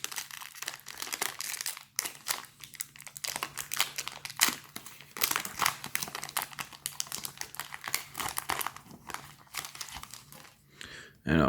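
A Pokémon Sword/Shield booster pack wrapper is crinkled and torn open up close, giving a steady run of crackly, papery crinkling bursts throughout.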